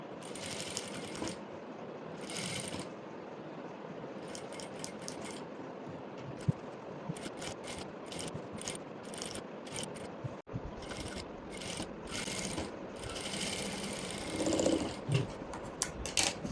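A sewing machine stitches saree fabric being made into a maxi dress, running in short, faint bursts with brief pauses and small mechanical clicks between runs.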